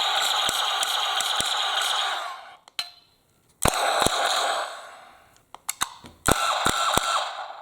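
A toy ZF-1 pistol blaster from the Korben Dallas prop fires in single-shot mode, giving a series of sharp mechanical clicks and ratcheting bursts separated by short gaps and one near-silent pause, close and fairly loud.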